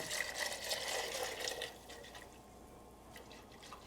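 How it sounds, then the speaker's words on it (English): Milk and cornstarch pour into a pan over near-high heat for turkey pot pie, a hissing, splashing liquid sound that is busiest in the first second and a half, then eases into a quieter steady trickle and sizzle. "now I'm going to start pouring in my milk and"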